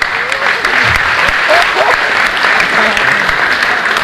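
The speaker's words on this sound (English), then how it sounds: "Give a lovely big round of applause." Loud audience applause at a hypnotist show, a dense sustained burst of clapping lasting about four seconds, with voices and cheers mixed into the crowd noise.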